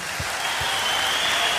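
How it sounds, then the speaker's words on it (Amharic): Audience applause at a religious gathering in Ethiopia, a steady wash of many hands clapping that fills the whole short stretch at an even, fairly loud level. "አጨብጭቡላት"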